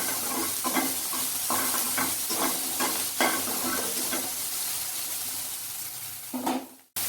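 Onions frying in mustard oil until brown give a steady, close sizzle with a series of short scraping stirs, alone and without talk, ending in a sharp clatter.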